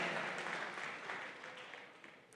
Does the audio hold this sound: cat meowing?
no